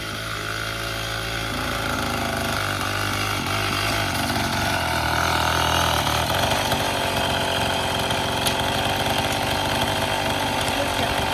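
Homemade Mahindra-style mini jeep with a small engine running loud and steady while driving in reverse, a continuous close buzzing drone with slight shifts in pitch and no talking.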